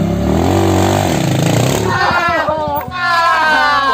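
A motorcycle engine revs hard with choppy, rattling bursts, then settles into a rough, pulsing idle, loud and close for about four seconds, partly mixed with other noise.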